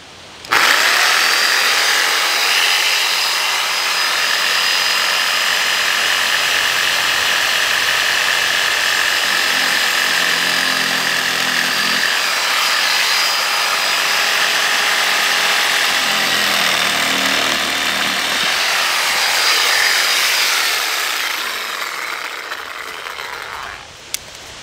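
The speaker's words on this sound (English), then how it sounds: "I have this old beat up sawzall, and that will work." An old, beat-up reciprocating saw cuts through an underground water line outdoors, a loud continuous buzzing drone lasting over twenty seconds with slight shifts in pitch as the blade works.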